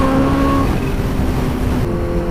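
A Kawasaki Ninja H2 supercharged motorcycle with an aftermarket baffled exhaust roars steadily on the road, a loud close engine drone with faint tonal whine shifting as it rides.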